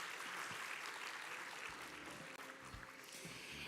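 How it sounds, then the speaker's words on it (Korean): An audience at a blockchain conference in Incheon claps in a sustained burst of applause, heard steadily and fairly faintly throughout. "다시 한번 큰 박수 부탁드리겠습니다"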